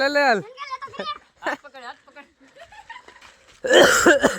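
A person coughs during a family Holi celebration, a burst of loud coughing at the end following stretches of close talk and laughter.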